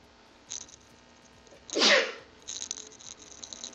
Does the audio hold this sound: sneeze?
yes